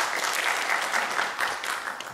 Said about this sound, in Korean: 환영한다고 같이 한번 박수 한번 쳐주세요